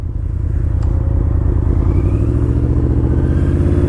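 A 2005 Yamaha V-Max cruiser motorcycle with a rated 120 HP at the wheel, its engine running with a deep, loud, steady low rumble and a slight rise in pitch, close up.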